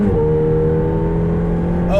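A McLaren 720S engine drones steadily on a track, heard loud from close inside the car, its pitch rising slightly at the very end.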